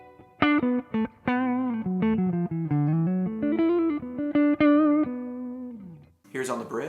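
An electric guitar on its neck humbucker, played through a Kemper Benson profile, runs through a quick melodic lick of plucked and sliding notes with a dark, muddy tone, followed by a brief voice at the end.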